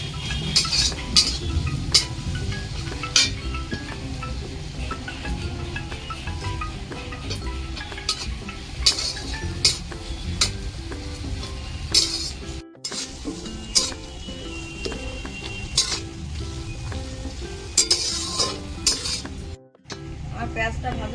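Onions fry with salt in a pan for a homestyle desi chicken curry: a continuous close sizzle with frequent stirring scrapes and sharp utensil clinks against the pan, plus a couple of brief pauses.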